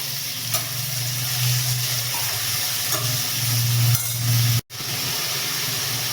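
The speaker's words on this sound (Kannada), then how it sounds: "ಸೊ ಈಗ ನಾನು ಹಣಬೆ ಹಾಕ್ತಾ ಇದ್ದೀನಿ" Mushrooms for a restaurant-style mushroom biryani hit a hot pan and roast in oil and ghee, giving a loud, steady sizzle with stirring. The sizzle cuts out briefly near the end, then resumes.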